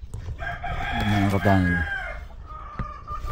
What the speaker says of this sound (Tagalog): lumabas na yung manok